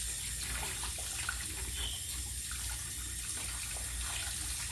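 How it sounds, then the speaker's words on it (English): Water runs steadily from a tap while a cotton fish tank filter is rinsed and squeezed under the stream, a soft continuous splashing with small irregular gurgles close by. "So I just rinse this out until the cotton when I'm squeezing it, it's not coming out dirty."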